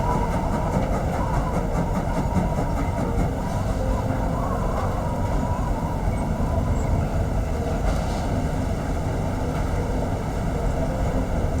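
The Orient Express rolls along in a video game, a steady rumbling train drone with rhythmic wheel clatter, continuous and fairly loud without talk.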